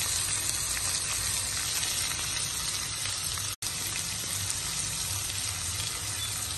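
Fried masala and tomato sizzle in a pan while a dill greens dish cooks, producing a loud, continuous frying hiss with a momentary cutout partway through.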